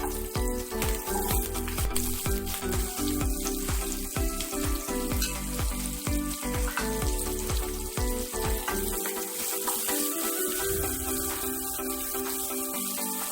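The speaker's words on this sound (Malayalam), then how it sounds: "ഇനി അത് ഓയിലിൽ തന്നെ നമ്മുടെ സവാളയും വെളുത്തുള്ളിയും പച്ചമുളകൊക്കെ ഒന്ന് മൂപ്പിച്ചെടുക്കണം" Onion, garlic and green chillies fry in hot oil for a spicy chicken kondattam gravy, giving a steady, close, loud sizzle with repeated scrape-and-stir bursts, a brief dip near the end, and no talking.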